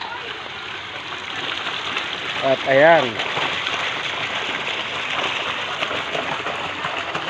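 Water from a water pump pours steadily into a swimming pool in a continuous, fairly close rushing wash that lasts throughout, with a voice speaking briefly partway through.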